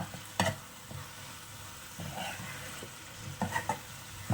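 Prawn fry with spices is stirred in a hot pan, a low sizzle running beneath sharp intermittent clacks and scrapes of a spoon against the pan, close by, without speech.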